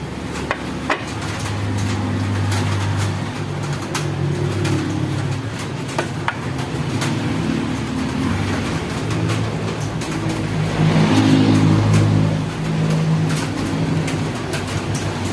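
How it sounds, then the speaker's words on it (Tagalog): Heavy traffic on a nearby highway rumbles without a break, a continuous low roar of passing vehicles with a louder surge near the end, heard from beside the road with no talking. "Maingay po dito sa amin kasi malapit lang po kami sa highway."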